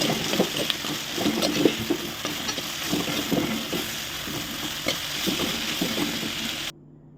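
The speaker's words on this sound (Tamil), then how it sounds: "கொஞ்சமாக அது கூட மஞ்சள் பொடி தேவையான அளவு உப்பு இதுவும் சேர்த்து நல்லா வதக்கி விடுறோம்" Bitter gourd sautéing in a pan with turmeric and salt, a steady close sizzle with scattered scraping stir strokes, ending abruptly in silence.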